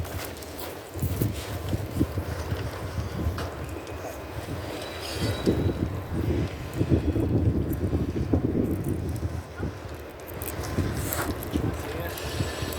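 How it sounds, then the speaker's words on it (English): Wind buffeting a microphone outdoors at the unveiling of a steam locomotive, steady low rumble with gusting swells throughout, with a voice speaking underneath. "Of course, the wind doesn't blow till now as well."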